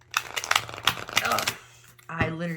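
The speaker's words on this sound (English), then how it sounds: "if you want to rifle shuffle them and you have tiny hands like I do" A tarot deck is rifle shuffled by small hands, a quick burst of riffling card flutters up close, then a brief pause and a softer settling of the cards, while someone talks throughout.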